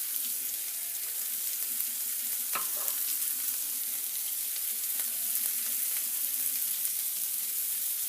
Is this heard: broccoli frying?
yes